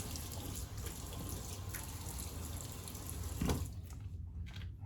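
A Gold Dollar 66 straight razor rinsed under a running tap, with steady splashing water pouring close by, then the flow cuts off and a few drips follow.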